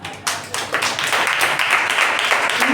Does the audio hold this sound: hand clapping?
yes